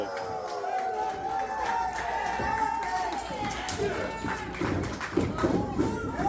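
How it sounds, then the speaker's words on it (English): Crowd at an independent pro wrestling show roars during a double suplex, with thuds and slams from the ring mixing into the steady cheering, a commentator talking over the noise throughout. "Crowd's going wild."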